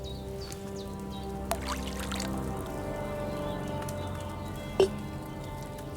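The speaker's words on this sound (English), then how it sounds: "So, what did you pour in there? Wine, of course." Wine poured from a pitcher into a cauldron in Kingdom Come: Deliverance II, a soft steady liquid trickle running under faint ambient background with a couple of small clinks.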